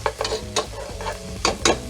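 Chopped garlic toasting in a hot pan before spinach is added gives a soft sizzle under repeated scraping stirs of a utensil against the pan, about six strokes in two seconds, close and moderately loud.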